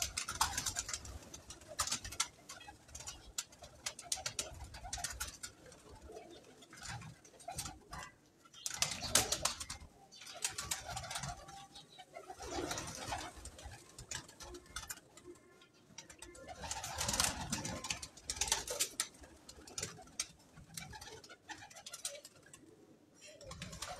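Pigeons coo repeatedly from a rooftop loft, soft throaty calls rising and falling in clustered bursts with quieter gaps, some close and some farther off, with occasional rustling.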